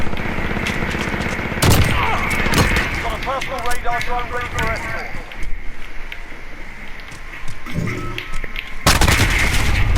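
Bursts of Call of Duty shotgun fire and other gunfire crack out loudly in a busy match, several sharp booms spaced over ten seconds amid chattering game effects, with a voice talking intermittently underneath.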